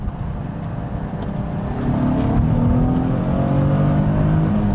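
A Nissan GT-R engine revs up and accelerates, its growl rising and getting louder midway, heard from close by with no talking.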